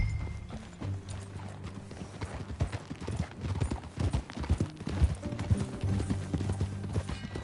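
Horse hooves clip-clopping in the video game Red Dead Redemption 2, a steady, fairly close rhythm of hoofbeats that continues throughout, with faint background game sounds.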